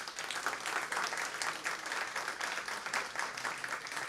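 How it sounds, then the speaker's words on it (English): A conference audience at the 2022 SCU Anomalous Aerospace Phenomena Conference gives a big round of applause, continuous, even clapping from a full room that holds steady for several seconds. "let's give it a big round of applause"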